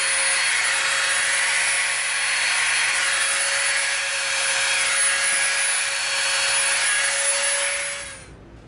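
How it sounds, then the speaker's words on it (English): A Dremel rotary tool carves rivet details into EVA foam for a bolter prop, a loud, steady high-pitched whine held close for about eight seconds before it cuts off. "Now we're gonna come in with our Dremel. We're gonna do a couple little rivet details."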